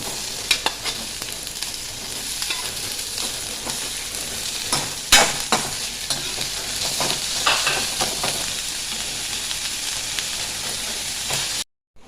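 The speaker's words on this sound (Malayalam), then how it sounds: "ഇഞ്ചിയും വെളുത്തുള്ളിയും വാടിക്കണം ഇനി പച്ചമുളക് കൊടുക്കട്ടെ" Ginger, garlic and green chilies sautéing in a pan, a close continuous sizzle punctuated by repeated spatula scrapes and taps, ending abruptly.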